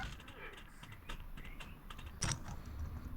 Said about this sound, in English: I used a lightsaber, which at first didn't want to turn on